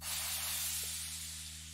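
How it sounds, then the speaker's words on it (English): Crash cymbal sample with unison applied in a production session, a dense steady wash of hiss like white noise holding evenly over a low hum, with no talking. "It sounds very white noise-ish"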